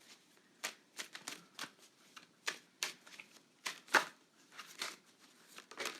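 Tarot cards being shuffled by hand: a series of soft, quick riffling and flicking bursts at irregular intervals, close and fairly quiet, with no talking.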